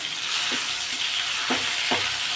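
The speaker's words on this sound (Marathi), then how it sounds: "आता हा मसाला चांगला या तेलामध्ये परतून घ्यायचा आहे" Ground spice masala sautéing in oil for a bean curry, a steady close sizzle with a few soft stirring thumps, no voices.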